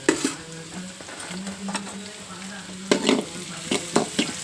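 Something crisping in hot oil in a pan, sizzling steadily with a spoon stirring and scraping, several sharp clinks of metal against the pan, close and alone without any talk.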